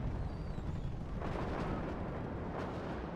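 Artillery fire in the WARNO real-time strategy game: a dense rumbling barrage of distant booms rolling continuously, with heavier blasts swelling around the middle and near the end.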